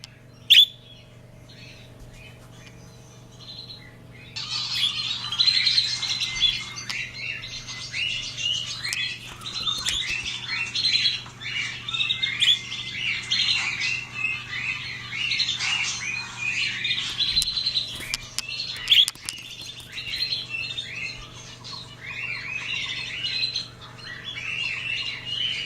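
Pet budgies chirping and squawking indoors, a busy, steady chatter of bright chirps and squawks that starts after a few seconds and continues at moderate level over a low background hum.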